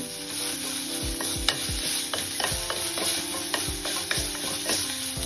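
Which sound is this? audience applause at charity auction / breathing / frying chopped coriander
frying chopped coriander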